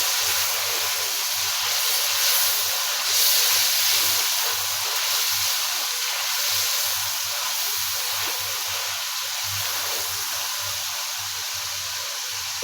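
Eggplant fries in hot masala, giving a continuous close hiss and sizzle that holds steady the whole time with faint low rhythmic thumps beneath.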